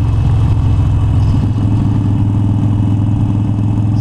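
A 1972 motorcycle ridden over a gravel road, its engine a loud steady mid-pitched drone with a throbbing idle-like pulse, continuous and close for several seconds with no voices.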